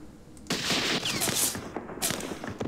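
Rifle gunfire from the Campaign Series Middle East war game, set in the Second Arab-Israeli War: a brief fusillade of overlapping shots, with a second burst about a second and a half later.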